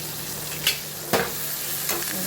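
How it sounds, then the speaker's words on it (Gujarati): Sambar with onion, salt and coriander being stirred in a pot, a soft bubbling simmer broken by three distinct knocks of a spoon against the pot, spaced irregularly and close. "બરાબર મિક્સ કરી દઈશું."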